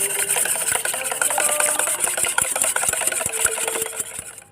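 Eggs are whisked for pandan custard, with quick, steady rhythmic ticks of a whisk against a bowl over a soft scraping wash that runs for several seconds and then tapers off.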